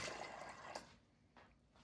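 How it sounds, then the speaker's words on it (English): Coconut milk poured into a pot of gungo peas gives a brief close liquid splash and trickle that tapers off, followed by a faint second splash. "I'm putting in half of the milk."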